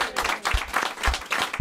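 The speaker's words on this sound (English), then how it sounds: "So please give Phil a big round of applause because we love him" A studio audience on a football-themed TV show claps in a short, lively round of applause, dense, close and fairly loud.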